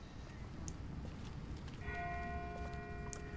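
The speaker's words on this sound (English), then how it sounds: "That's not the same bell as before. This one's further off." A distant bell rings faintly over low ambient rumble in The Walking Dead video game, a sustained tone with lingering overtones that enters midway and holds to the end, with no talk.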